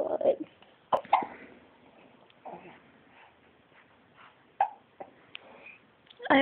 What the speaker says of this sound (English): Oh, I love the hiccup noise.